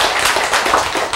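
An audience at a lecture breaks into brief applause, a dense burst of clapping heard close and loud throughout a short moment.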